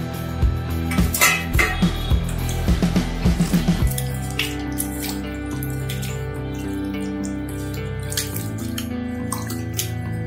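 Cut potatoes being washed by hand in a bowl of cold water, with close splashing, dripping and sloshing bursts in the first few seconds, then settling into a quieter steady trickle and faint water movement.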